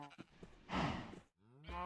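Farm cattle in a video game give short moos, two brief lowing calls close together, quiet but clear with no talk.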